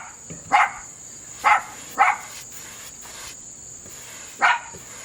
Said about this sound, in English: it's gonna be the dogs barking consistently